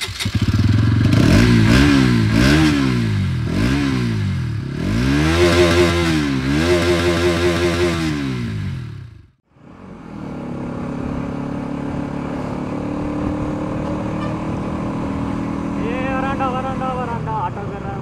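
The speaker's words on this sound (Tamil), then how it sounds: "அதுக்கு முன்னாடி இந்த வண்டியோட சவுண்ட் எப்படி இருக்குது அப்படின்னு சொல்லி உங்களுக்கு காட்டுறேன்." A Bajaj NS200 motorcycle engine revs up and down in repeated loud swells, a brief cut near the middle, then settles into a steady rumble with further throttle rises, recorded close by.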